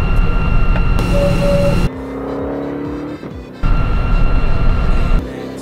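Ultima GTR with a 7-litre engine roaring loudly from inside the cabin at speed, a constant heavy drone that drops briefly during a gear change, then surges again.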